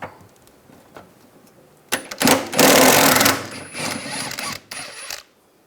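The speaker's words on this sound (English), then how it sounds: "Using a 14mm socket, take this bolt out." A 14mm socket wrench ratchets a bolt loose on the rear shock absorber mount of a 2004-2009 Toyota Prius, giving a burst of rapid, loud clicking for about three seconds after faint handling noises.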